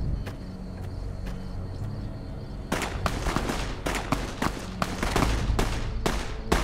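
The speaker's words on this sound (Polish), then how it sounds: "Co to za strzały?" Sharp gunshots in Fallout: New Vegas, near the town of Novac, crack in a rapid, irregular volley, starting sparse and then firing quickly, over a low background hum.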